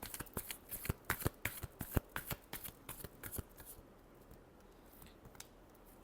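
Tarot cards are shuffled close by in a rapid series of crisp riffling slaps that stop after a few seconds, followed by quiet, with one brief spoken word.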